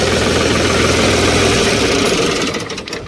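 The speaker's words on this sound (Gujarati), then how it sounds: "આપણે ટ્રેક્ટર જરાક બંધ કરી દઈએ" A farm tractor engine idling close by, a steady loud rumbling chug with vibration that drops off slightly at the end as it is shut down.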